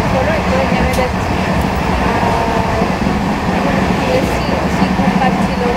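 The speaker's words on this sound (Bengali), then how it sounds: "এই জায়গা দিয়ে ট্রেন প্রচুর জোরে জোরে যায়" A train speeds along the line near Jhargram, giving a loud, steady, broadband rumble and rush that holds unbroken for the whole stretch.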